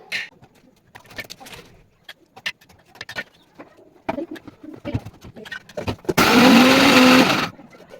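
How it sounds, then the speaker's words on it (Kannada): A mixer grinder grinding biscuits whirs loudly for about a second and a half near the end, after scattered handling clatter and knocks. "ಮಿಕ್ಸಿ ಮಾಡ್ಕೊಂಡಿದ್ದೀನಿ"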